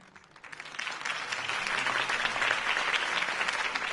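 A crowd in a Batman video game applauds after a Harvey Dent campaign speech, a steady wash of clapping that builds from quiet to full and holds at a moderate distance.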